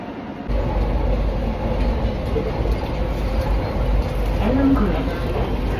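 A Kochi metro train carries riders toward Ernakulam Town Hall, its steady low rumble and whirring motion noise filling the carriage and holding fairly loud and even for several seconds, with faint voices mixed in.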